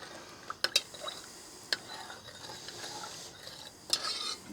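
Homemade liquid Maggi seasoning with pepper being stirred in a pot, quiet swishing with a few sharp clinks of a spoon against the side.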